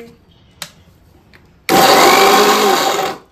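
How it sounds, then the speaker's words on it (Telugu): A mixer grinder roars to life after a quiet start with a couple of small clicks, then runs loud and steady for over a second blending tomatoes and cumin into paste before winding down. "ఇప్పుడు మిక్సీ కొడతాను"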